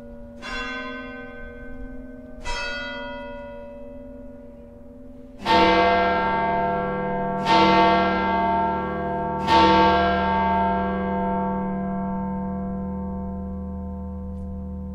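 Large church bells of Saint Peter's Basilica in the Vatican, heard from the roof: a few single slow strokes, then three louder deep strikes about two seconds apart, each leaving a long ringing hum that lingers.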